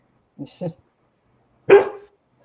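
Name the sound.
dog barking to go out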